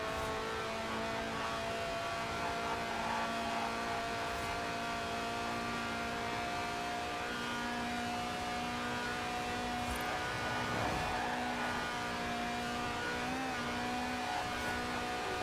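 Sustained drone of a Lotus sports car's 1.8-litre engine, which revs to 8,000 RPM, steady high pitch like a car held at high revs, continuous and fairly loud with no talking.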